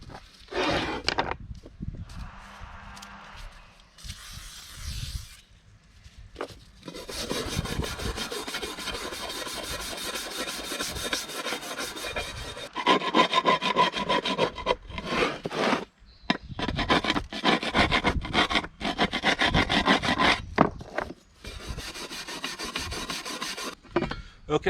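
Hand sanding of a rusty boat saildrive leg with sandpaper, close and rasping, in repeated bursts of back-and-forth scrubbing separated by brief pauses.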